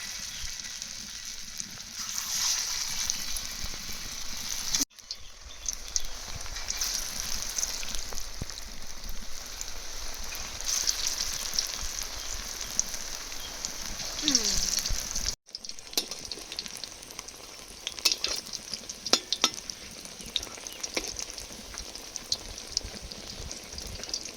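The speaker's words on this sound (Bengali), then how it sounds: "তেল গরম হয়ে গেছে এবার বড়াগুলো ভেজে নেব" Jackfruit seed fritters fry in hot oil in a steady, close sizzle with crackling bursts that run through the whole stretch, no voices over it.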